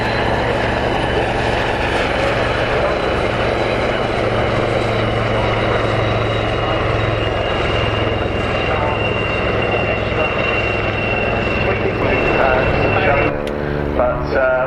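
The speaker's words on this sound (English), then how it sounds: "I'm sure you noticed we've got one helicopter, Wildcat." Westland Wildcat military helicopter flying at the RAF Cosford airshow, a loud steady rotor and turbine drone with low thudding hum, continuous throughout, with a commentator's voice over the public address.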